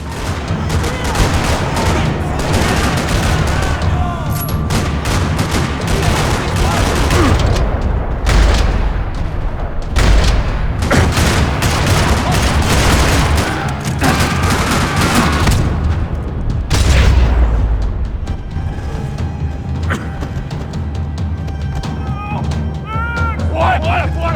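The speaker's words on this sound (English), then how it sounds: "Another parking lot rattling with gunfire." Dense, continuous gunfire rattles throughout, with bursts of automatic fire and occasional heavier booms, set against a busy, loud game-like soundscape.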